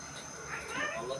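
A pet cat meows softly in a home, brief faint calls under someone talking nearby.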